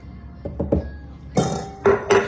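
Metal spoon scraping and knocking peach mixture out of a bowl for homemade peach ice cream: a few soft taps followed by three brighter clinking scrapes, close and clear with no talk.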